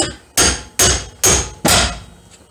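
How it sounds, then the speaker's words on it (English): A big three-pound hammer strikes a C4 Corvette's upper suspension ball joint four times in a steady rhythm, each blow a loud, sharp metallic bang with a ringing decay, close up and without talk. "Grab my big hammer."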